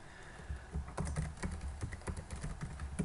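Keys on a computer keyboard pressed in rapid, irregular clicks for an Alt+W shortcut, close-up and alone without any voices.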